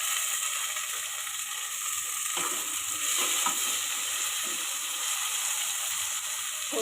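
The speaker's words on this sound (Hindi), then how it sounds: "थोड़े से चने फ्राई हो ऑयल में। चने फ्राई हो गए थोड़े से।" Boiled chickpeas frying in oil for chana pulao, a steady hissing sizzle with occasional scraping stirs partway through, close and continuous, no voices.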